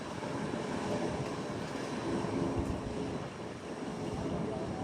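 United Airlines Dreamliner jet heard at an airport, a steady loud broadband engine roar that fills the whole clip without letting up.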